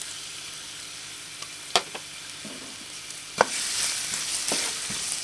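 Garlic dropped into hot cooking oil for adobong pusit crackles and sizzles loudly, with a sharp clatter at the start and a fuller burst of frying partway through, close and continuous.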